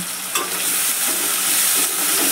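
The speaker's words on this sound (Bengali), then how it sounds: "কিছুটা পরিমাণে লবণ, হলুদ গুঁড়ো দিয়ে সুন্দর করে চিংড়ি মাছটাকে আমি ভেজে নেব" Prawns frying in hot oil with salt and turmeric, giving a steady, dense sizzle that stays loud and even throughout, with a faint scrape near the start and no voices.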